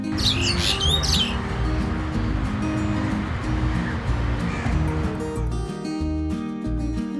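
Bright chirping calls of an Asian pied starling ring out at the start over a steady wash of surf-like noise, with lower tonal sounds beneath.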